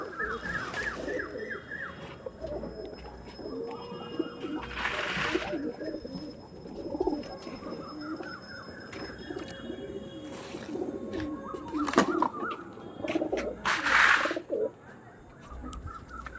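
Pigeons coo repeatedly in soft, rolling phrases, close by, alongside scattered chirps from other birds. These are Andhra breed tournament pigeons kept for sale.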